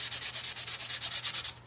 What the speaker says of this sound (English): I think I'm going to take my sanding block to the top part here.